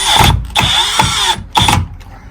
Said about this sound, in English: you drill them in at the corners